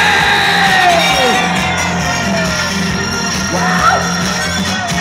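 A crowd at a school centennial concert cheering and shouting, a loud continuous roar of yells and whoops over a music backing, with a few rising shouts standing out.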